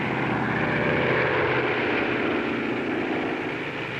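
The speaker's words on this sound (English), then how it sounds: "Taxiing at full throttle, the tow planes had to remain on the ground until the ton-and-a-half gliders were airborne" A WWII transport tow plane taxiing at full throttle with a ton-and-a-half glider in tow gives a loud, steady propeller-engine drone that holds unbroken from start to finish.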